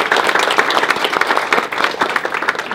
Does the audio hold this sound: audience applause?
yes